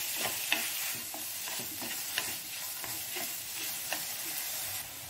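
Duck filling being stir-fried in a pan, with a steady frying sizzle and repeated scraping strokes of a spatula at a moderate rhythm, close by with no talking.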